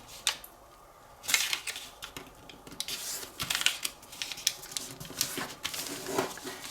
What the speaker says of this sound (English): now fold this edge